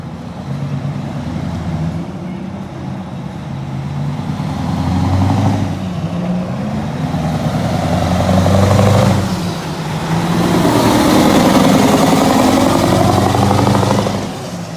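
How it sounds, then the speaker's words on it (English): A Mack E9 V8 diesel engine runs loud and steady, its deep rumble swelling in a couple of revving surges before settling back to a heavy idle-like drone, with no voices. "The Mack E9 V8 was Mack's answer to every driver who wanted more muscle than an inline six could deliver."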